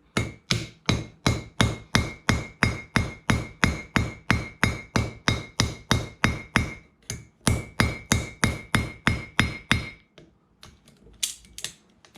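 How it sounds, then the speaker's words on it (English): Hammer striking a troy-ounce silver bracelet flat on a metal surface: a fast, even series of sharp ringing blows, about two per second, close and loud, then a pause and scattered lighter taps at the end. "Hammer this flat, good and flat. Get rid of that twist."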